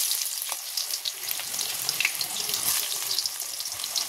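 Onions fry in a kadai with a continuous loud sizzle and crackle, sharp spitting pops scattered throughout at close range.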